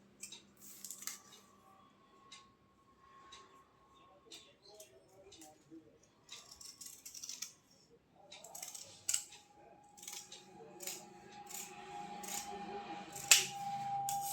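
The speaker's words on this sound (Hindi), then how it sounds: "अब हम क्या करेंगे, यहाँ से इसको काट देंगे।" Scissors cutting fabric for a patiala salwar, with a series of short, close snips scattered over quiet room tone and a faint hum.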